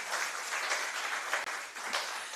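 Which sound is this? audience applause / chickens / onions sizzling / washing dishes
audience applause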